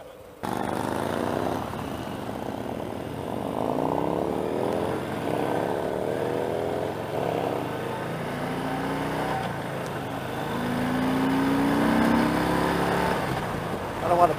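A Harley-Davidson Heritage Classic 114 motorcycle engine drones steadily and near, its pitch climbing and falling through several revs, with a louder swell late on and a faint voice now and then.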